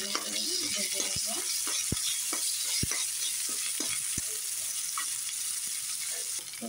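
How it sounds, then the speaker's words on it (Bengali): Ginger garlic paste sizzles in hot oil in a pan, a steady bright hiss with occasional sharp clicks of a spoon stirring, no voices. "আদা রসুনের পেস্ট দিয়ে আমি একটু ভালো করে ভেজে নেব"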